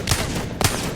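Two sharp, loud gunshots about half a second apart, fired at mannequins on the firing range in Apex Legends.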